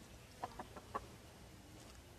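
A backyard hen that is brooding eggs for the first time gives a few soft, short clucks in a loose cluster, fairly close and quiet against light outdoor background noise.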